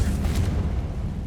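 A Confringo fire spell exploding in Hogwarts Legacy: a short, deep, loud boom with a rumbling low-end burst that fades quickly.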